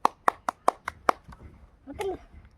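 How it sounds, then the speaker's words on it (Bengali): Children clap together in six sharp, evenly spaced claps, then a few softer scattered ones trail off, followed by a brief voice. "ভেরি গুড হাততালি হাততালি"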